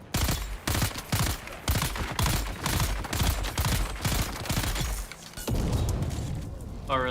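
Rapid bursts of gunfire ring out in Dune: Awakening, loud and close, in a dense fusillade of repeated shots that runs almost without pause, with a short break near the end before the firing resumes.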